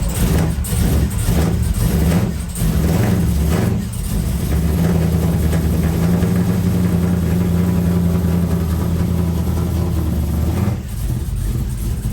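A rebuilt 350 engine in a 1986 Camaro Z28 idles loudly and steadily up close, with a few uneven pulses early on and a brief change near the end, no talking over it.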